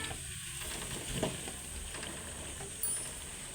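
Soft, steady sizzle of banana flower chops frying in oil, with a couple of light clinks partway through.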